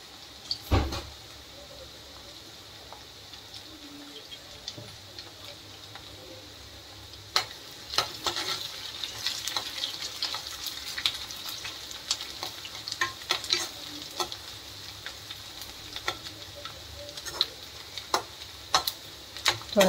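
Curry leaves frying in hot oil for sambar: a soft, continuous sizzle broken by scattered clicks and scrapes of a spoon stirring the pan, close by and with no talking.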